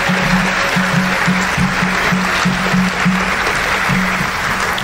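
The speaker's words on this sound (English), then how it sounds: "Give yourselves a round of applause." A crowd at a high school academic awards ceremony applauding steadily and loudly, dense clapping filling the whole stretch without a pause, no voices over it.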